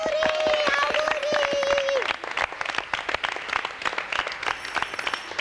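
A studio audience at a RAI television show claps for children's birthdays, brisk rhythmic applause that starts under a sustained tone, then thins into separate sharp claps.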